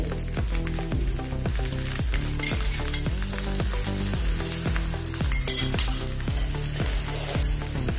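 A wheat flour thalipeeth fries in oil in a pan, giving a close, continuous, even sizzle with a faint bubbling texture and a steady underlying hum.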